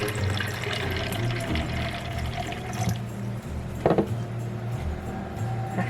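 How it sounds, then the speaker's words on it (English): About two cups of water pour into a blender for Jamaican peanut punch, a steady liquid splash and trickle over a low background hum, with a brief louder gurgle near the end. "To that, I'm going to add about 2 cups of water,"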